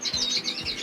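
Canaries in an indoor bird room give quick, bright chirps that repeat in a steady fluttering run, close and clear, with no voices.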